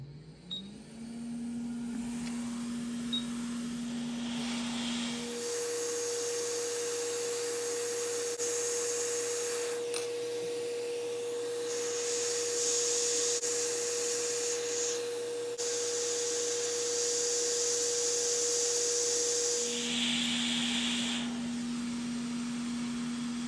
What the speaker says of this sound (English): if you're using a hot air machine, I like to use or set it to